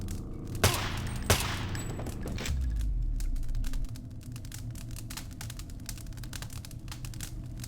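Two sharp, loud assault rifle shots crack out in the Deus Ex video game, each a distinct isolated bang, followed by a heavy low rumble and lingering ambient background noise.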